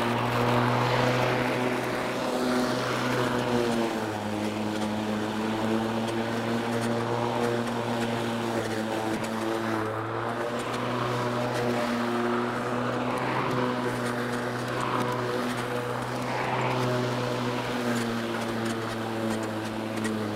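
An electric corded lawn mower runs steadily and close by for the whole stretch, a constant motor whine with a low hum, quieter than a gas mower.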